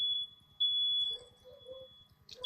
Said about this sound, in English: I hear beeping.